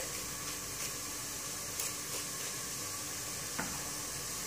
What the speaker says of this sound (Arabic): خلوه يتقلى شويه يعني البصل مع اللحم تاعنا